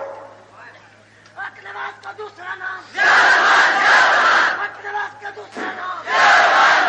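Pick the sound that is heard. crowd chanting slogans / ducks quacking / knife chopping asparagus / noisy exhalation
crowd chanting slogans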